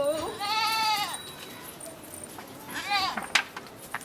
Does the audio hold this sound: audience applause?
no